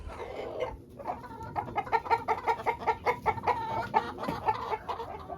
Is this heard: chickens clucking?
yes